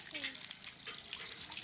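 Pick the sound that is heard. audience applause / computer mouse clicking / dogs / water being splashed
water being splashed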